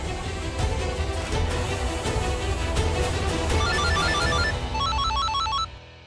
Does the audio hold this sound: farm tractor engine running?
no